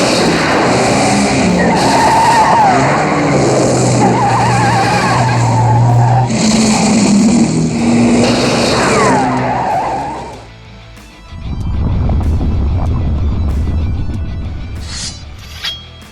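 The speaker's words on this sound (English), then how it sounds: "You got an exciting, fast-paced car chase on the streets of Tokyo." Cars tearing through the streets of Tokyo in a Bond film chase, loud revving engines and screeching, skidding tyres, a brief drop to near quiet, then another roaring, squealing burst.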